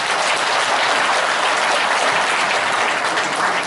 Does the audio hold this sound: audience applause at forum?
yes